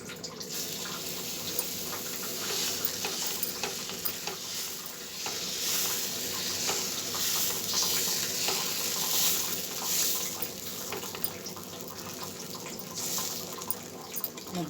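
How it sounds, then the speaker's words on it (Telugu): Egg masala dosa batter spread on a hot pan sizzles and hisses steadily at low level, a continuous soft frying sound with faint clinks and no talking. "పెనం రెడీగా ఉంది కదా. దోశ వేసుకున్నాం ఇప్పుడు."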